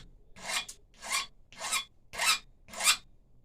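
A metal file rasps across the tip of a finishing nail in five slow, even strokes, each a close, gritty scrape separated by short pauses.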